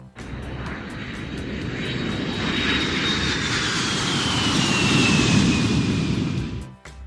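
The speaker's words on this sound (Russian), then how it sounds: "Грузовой самолет." A cargo airplane's engines give a loud, steady drone with a high whine that slowly falls in pitch, the roar swelling slightly as the aircraft passes close by, then dropping off sharply at the end.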